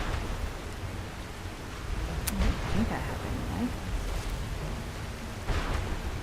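Rain and thunder from a storm dragon in modded Skyrim: a steady hiss of rain with low rumbling and a couple of brief crackling strikes, while someone talks over it.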